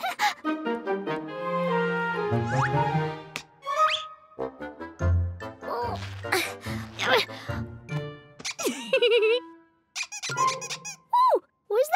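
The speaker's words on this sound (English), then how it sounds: "Then who made that squeaking noise?" A rubber duck squeaks in a children's colour and counting cartoon, sharp high squeaks mixed in among bright animated voices talking over music.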